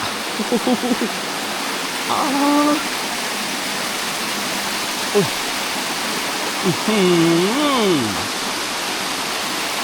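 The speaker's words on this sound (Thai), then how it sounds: "น้ำตกผาลี บ้านพกกว้าง ตำบลมหาชัย อำเภอสมเด็จ จังหวัดกาลสินครับ" Pha Li waterfall in Kalasin, Thailand, flowing with a steady broadband rush of water, continuous and fairly close, while someone talks over it in several short bursts.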